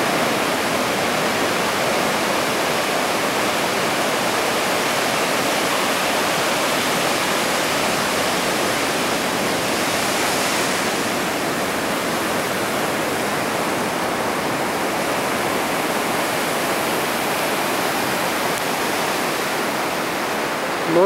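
Large ocean waves crash on a beach in Vagator, Goa, during Cyclone Ockhi, heard as a loud, continuous roaring surf wash that stays steady and close for the whole stretch with no distinct breaks.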